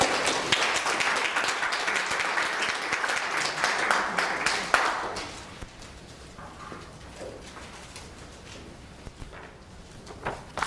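A lecture-hall audience at an Emory University talk applauds to welcome the speakers, loud sustained clapping for about five seconds that then fades into quieter scattered claps and room noise.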